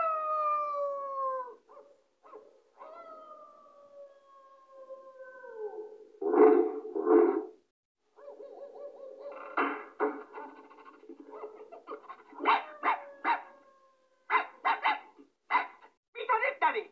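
Cartoon dogs howl in long, drawn-out wails, then answer with sharp bursts of barks and yips, near and moderately loud, overlapping one another with brief gaps in between.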